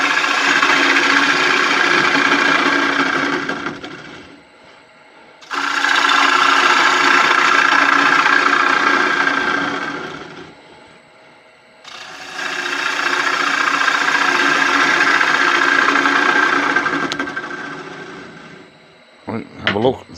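A wood lathe hollowing out the inside of a turned piece, heavy cutting bursts in three long passes separated by brief quieter pauses, loud and close.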